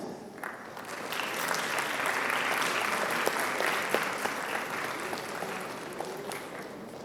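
Steady applause from an auditorium audience at a graduation ceremony, sustained and fairly distant as guests enter, holding evenly for several seconds without talk over it.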